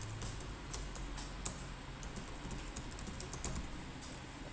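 Fairly quiet typing on a computer keyboard, with steady irregular key clicks and a few louder taps over a soft background hum.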